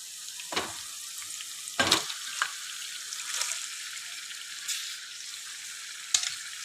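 Marinated chicken dropping into a pan of frying ginger paste, giving a continuous sizzle with a few sharper bursts and stirring scrapes, close and fairly even throughout.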